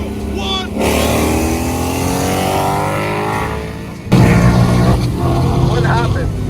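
A car drives through Atlanta traffic on a cross-country road trip, its engine and road noise a steady interior drone with a louder surge partway through, under people talking in the cabin.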